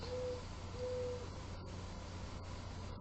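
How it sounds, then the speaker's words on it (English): An owl hoots twice, clear and steady, outside a bedroom window at night, each call a sustained tone over a constant hiss of room noise. "It's very loud owl bird thing outside my window"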